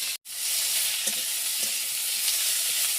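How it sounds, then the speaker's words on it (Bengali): Spices and potatoes fry together in a pan for a rohu fish curry with drumsticks and pointed gourd. A dense, steady sizzle fills the clip, with a couple of soft stirring clicks, close up and without talk. "মশলাটা ওই আলুর সঙ্গে ভেজে নেবো।"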